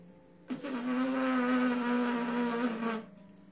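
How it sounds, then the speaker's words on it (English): Lips buzzing through a brass-player's embouchure without a mouthpiece, a single steady nasal buzz held for about two and a half seconds, close and fairly loud, starting and stopping abruptly. "let's push an airstream through our lips and have them vibrate against each other, causing a buzzing sound, like this"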